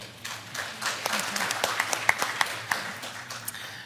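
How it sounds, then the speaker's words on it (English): Scattered hand claps from a conference audience for a Pepsico SA snacks manager joining a panel, thin and uneven with a few sharper claps over low room hum, fairly faint. "Let's give them a warm applause."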